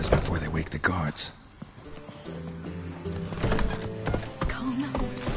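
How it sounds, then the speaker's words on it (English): Horses in the video game The Witcher 3 whinny and stamp restlessly, with clopping hooves and repeated snorts and neighs spread across the scene and brief voices mixed in. "Gotta calm all the horses before they wake the guards."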